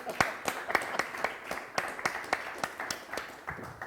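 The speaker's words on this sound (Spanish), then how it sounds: "Por favor, un aplauso por la reconciliación entre Julio Iglesias y César Luca." An audience claps and applauds at a Spanish talk event, heard as a quiet, steady run of evenly spaced claps.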